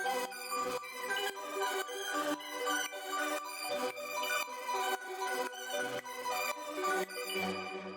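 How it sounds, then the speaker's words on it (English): A two-layer synth arpeggio in warped, chaotic electronic music pulses in rapid repeating bursts, bright and dense, with low bass notes dropping in near the end. "So the next thing we have here is the weird ARP that you heard, which is 2 layers, and it sounds like this."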